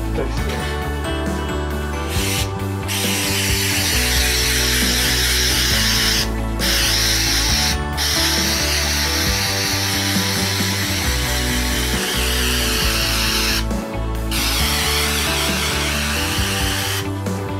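Drywall texture sprayed from a well-shaken aerosol can onto a wall patch, a long continuous hiss broken by a few short pauses and spurts, close and loud throughout.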